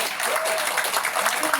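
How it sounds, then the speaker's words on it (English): An audience applauds after a paleontology and zooarchaeology talk at a nature society branch gathering in Selangor, with a dense, steady wash of clapping filling the short stretch and a voice briefly mixed in. "Can we give a big round of applause?"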